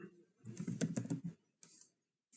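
Quick bursts of fingers typing on a computer keyboard, close and fairly quiet, with soft clustered keystrokes separated by short pauses.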